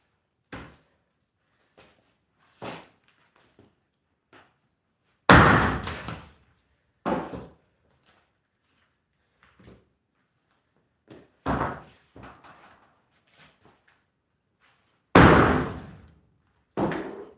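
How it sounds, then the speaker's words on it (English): Irregular sharp metallic bangs, some loud and ringing, others light taps, spaced unevenly like blows from a 16-pound steel hammer striking nearby while making mulch, with silence between. "just from this swinging a hammer"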